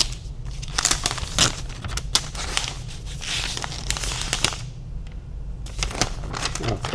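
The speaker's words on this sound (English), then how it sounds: "unwrapping." Crinkling and tearing of packaging being unwrapped from an Apple M4 Max Mac Studio, with quick crackly rustles and rips in irregular bursts, close and fairly loud, broken by a short pause.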